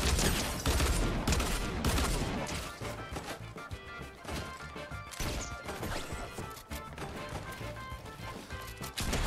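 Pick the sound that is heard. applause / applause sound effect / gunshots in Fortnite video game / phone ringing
gunshots in Fortnite video game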